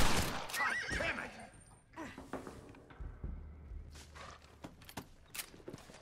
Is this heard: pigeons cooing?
no